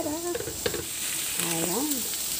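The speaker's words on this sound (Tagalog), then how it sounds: "Lalagay na natin yung gulay natin." Vegetables hit a hot pan of sautéing pork with a steady frying sizzle and light stirring scrapes, close and moderately loud, with a brief whistling tone over it.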